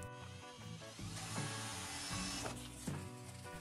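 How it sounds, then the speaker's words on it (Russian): A small drill bit bores a hole in the bottom of an empty can of spray foam, giving a short, close, whirring, grinding whine with uneven pitch. "Далее маленьким сверлом аккуратно сверлим отверстие."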